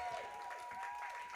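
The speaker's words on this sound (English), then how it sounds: "You clapped at just the right moment." An audience at a stand-up comedy night at the Royal Court claps steadily, a dense patter of many hands sustained throughout at moderate level, with a faint tone running underneath.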